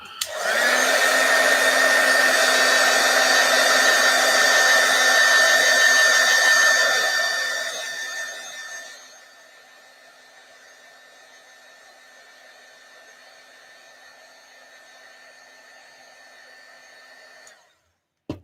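A heat tool or hair dryer blows steadily and loudly over freshly stamped ink for about seven seconds, then drops to a quieter, lingering whir that continues until near the end.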